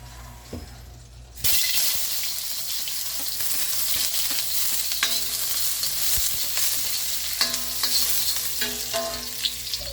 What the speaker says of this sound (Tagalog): Kapag mainit na yan, pwede na natin igisa yung ating bawang at sibuyas.